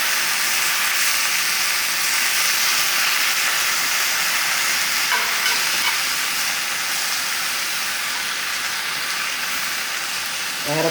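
Fresh spinach with stems left on, plus garlic, sizzling in a hot pan: a steady, loud, hissing sizzle that holds evenly throughout with no talking.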